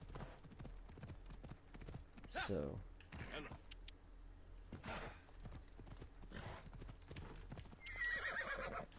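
Horse galloping in Assassin's Creed Odyssey, rapid clip-clop hoofbeats running steadily throughout, with whinnies breaking in near the start and middle and a brief spoken word.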